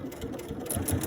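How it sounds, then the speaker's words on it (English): Sewing machine stitching through leather or suede, a steady close mechanical whir running continuously without pause and with no talking. "Now I'm going to sew on the other side too, so you can see that it doesn't make any difference which side you are on."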